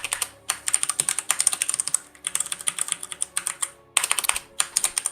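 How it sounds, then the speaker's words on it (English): Fast, close computer keyboard typing in bursts of crisp key clacks, pausing briefly between runs, heard alone without talk. "I'm just enjoying the keyboard ASMR while in the loading screen."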